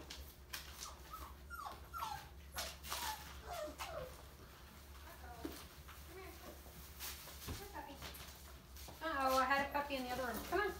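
Bullmastiff puppies whimper and give small yips indoors at a breeder's home, several short high cries in scattered bursts growing busier near the end, with a person talking in the background.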